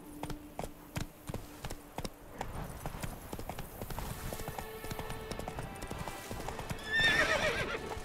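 Horse in The Witcher 3 video game: hooves clip-clop in separate beats before settling into a faster gallop, with a loud whinny near the end.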